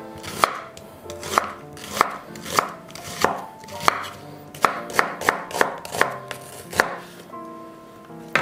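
An onion being sliced lengthwise into thin strips with a knife on a cutting board, a regular series of crisp close chops that quickens midway, with no voices.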